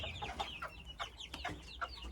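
A hen clucks repeatedly in short, choppy bursts, fairly close, with a low rumbling background underneath.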